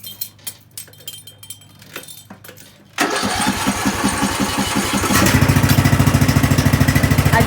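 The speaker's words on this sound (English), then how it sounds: "we're gonna start my lawnmower up" A riding lawnmower engine, started with no choke, cranks with a few scattered clicks before catching. It then struggles into a rough, loud, pulsing run that grows steadier and stronger near the microphone.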